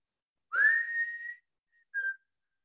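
A person whistles one long note that slides upward and holds, then adds a short second note after a brief pause.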